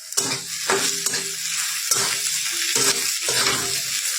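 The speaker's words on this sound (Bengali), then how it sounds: "পেঁয়াজটাকে কষিয়ে নিচ্ছি ভালো করে" Onions fry in a pan with salt and turmeric, a loud continuous sizzle broken by regular scraping stir strokes, close and alone.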